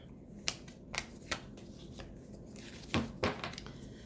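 A deck of emotion cards being shuffled by hand, crisp riffling flicks and snaps coming in short separate bursts, close and fairly quiet, with no talking.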